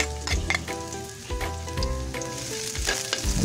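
Garlic sizzling in hot oil in a pan for chicken tinola, with steady close frying crackle and repeated scraping stirs of a utensil against the pan, no voices.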